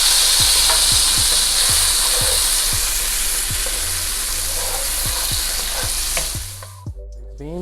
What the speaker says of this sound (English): So here we will add some chopped garlic, and we will stir fry this.